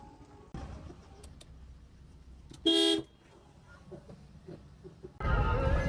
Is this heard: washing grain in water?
no